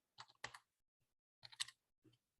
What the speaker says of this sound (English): And just going to keep typing in some names.